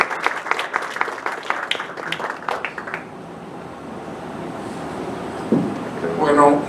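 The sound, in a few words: audience applause for a speaker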